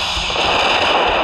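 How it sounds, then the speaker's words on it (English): Gunfire in the mobile battle royale game Apex Legends Mobile, a brief, dense and loud burst of shots with a crackling, continuous texture. "They're shooting at me!"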